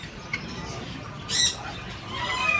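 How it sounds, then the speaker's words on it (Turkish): A harsh, loud parrot squawk bursts out once at an animal market, with fainter bird calls and background noise around it. "Aha papağanlar bak lan."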